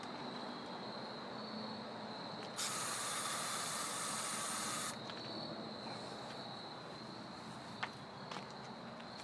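A single sustained insecticide aerosol spray hiss lasting about two seconds, aimed at a spider on a deck, bursting out over a quiet outdoor background, followed by a couple of faint clicks.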